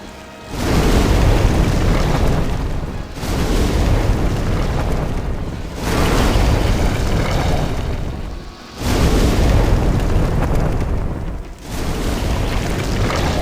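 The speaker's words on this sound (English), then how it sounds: "some fire bombs all over your face" Fire bombs go off in the Demon's Souls video game as repeated loud, roaring, rumbling bursts, each lasting a few seconds with brief dips between them.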